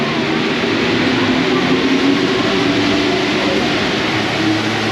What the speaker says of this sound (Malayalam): ഇതാണ് ആ ഡ്രൈവറില്ലാത്ത മെട്രോ.